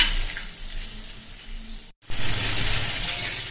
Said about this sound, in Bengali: মিডিয়াম ফ্লেমে রেখে আমি 2 থেকে 3 মিনিট এইভাবে ভাজা করে নেব